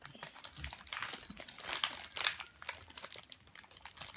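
Plastic packaging of Yokai Watch kashiwa mochi rice cakes crinkles and crackles as it is opened by hand, a steady run of close, soft rustling with a few sharper crackles.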